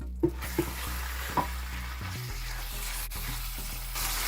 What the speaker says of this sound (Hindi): इसे हम फ्राई करेंगे।